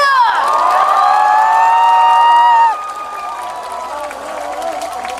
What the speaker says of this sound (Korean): 여러분 박수와 함성 보내주세요!